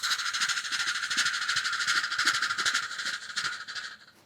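A mimicry artist imitates a coal-fired steam train with his voice, producing a rhythmic, hissing chuff that pulses quickly and steadily before fading slightly at the end.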